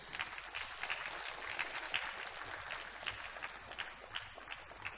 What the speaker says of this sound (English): Please help me welcome him with a huge round of applause.